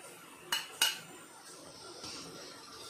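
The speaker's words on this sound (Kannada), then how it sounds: "ಸ್ಟೌವ್ ಮೇಲೆ ಒಂದು ಪಾತ್ರೆ ಇಟ್ಟು" A cooking pot is set down on a home kitchen stove while making millet bisibelebath: two quick metallic clanks about a quarter second apart, close and fairly loud, followed by a low, quiet kitchen background.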